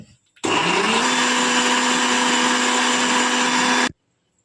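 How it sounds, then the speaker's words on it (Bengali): Blender grinding timul (Sichuan pepper) with tomato and dried red chilli into a chutney, a loud steady whirring motor running continuously for about three and a half seconds, starting and stopping abruptly. "গ্রাইন্ড করে দেখাচ্ছি"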